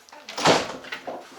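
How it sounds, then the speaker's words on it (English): A door swings open at a border control post with one short, close creak and thud that lasts about a second. "let's open the door"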